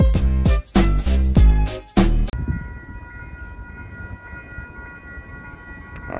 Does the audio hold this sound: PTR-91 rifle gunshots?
no